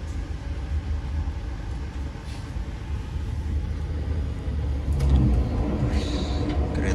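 Argo Dwipangga New Generation train slowing down on approach to Wates station, heard from inside as a steady low rumble of wheels and carriage that swells slightly louder toward the end.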